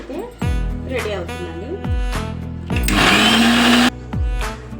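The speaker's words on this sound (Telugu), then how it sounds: "ఇప్పుడు అన్ని కలిపి మిక్సీ కూడా" A mixer grinder blends okra chutney with peanut powder and tamarind, running in short whirring pulses and one longer, higher-pitched grind, close and loud, with a voice talking between the bursts.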